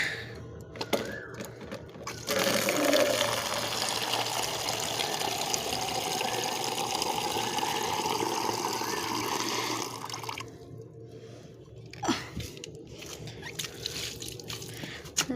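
Water gushes steadily from a rooftop tap for watering plants, a close, full rushing flow that lasts several seconds before easing, with brief clatters and soft background speech.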